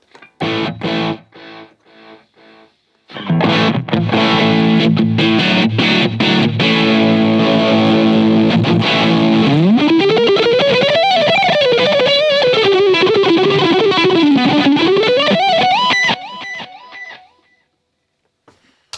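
Loud, distorted electric guitar played through a Fender Mustang LT40S practice amp with two 4-inch speakers and 40 watts: choppy chords that give way to a sustained, bending lead line, ringing out before stopping.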